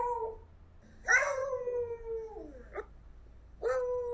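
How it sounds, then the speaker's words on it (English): Recorded beagle vocalizations played back: a short bark, then a long falling howl and a couple of yelping calls, fairly close and clear over a quiet background, with no talking. "I'll pull up a beagle bark for you."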